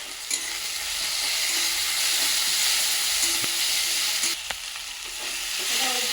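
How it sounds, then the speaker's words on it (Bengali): Garlic paste sizzles in a pan with chopped onion and tomato, a continuous close frying hiss broken by occasional scrapes and stirring knocks, and no one speaks. "এবার বেটে রাখা রসুনটা দিয়ে দেবো"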